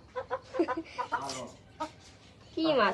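Chickens cluck in short bursts around a home where fish is being brought in, with a person talking over them close by.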